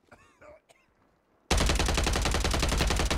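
Gunfire in the Warzone video game: a sudden, loud, sustained burst of rapid shots that follows a quieter stretch of faint chatter and game sounds.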